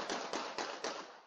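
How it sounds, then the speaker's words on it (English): Four sharp, evenly spaced gunshots crack in quick succession on a street, heard from some distance, each with a short ringing tail. "You hear the first series of gunshots and see people scrambling for safety"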